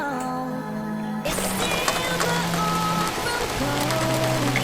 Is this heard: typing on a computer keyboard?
no